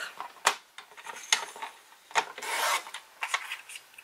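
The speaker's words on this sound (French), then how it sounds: "Je vais venir découper donc des petits rectangles de 10 cm sur 14 cm." Scissors snip paper into small rectangles of about 10 by 14 cm, crisp dry cuts and rustles in an uneven series, close and fairly quiet, with no talking.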